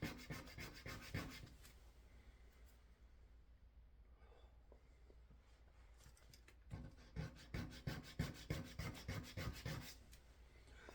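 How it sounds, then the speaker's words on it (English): Sandpaper rubs a carved wooden sea turtle fishing lure in quick, close, quiet strokes, with steady rasping bursts at the start and end and a softer pause in between. "all I'm using is sandpaper right there"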